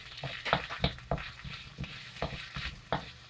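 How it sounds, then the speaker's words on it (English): Onions stir-fried in a wok or pan for beef lo mein, steady sizzling broken by a rhythmic series of scraping utensil strokes, close and moderately quiet. "Just stir fry everything."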